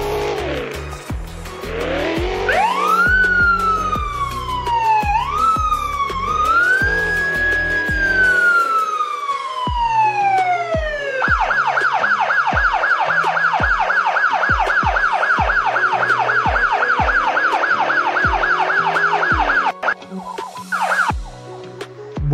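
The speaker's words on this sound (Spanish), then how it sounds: "El código 3 básicamente es alta velocidad con la sirena y las luces encendidas." A police car races at high speed on a code 3 run, its siren loud and close, first rising and falling in slow wails, then switching to a rapid, steady yelp over engine noise.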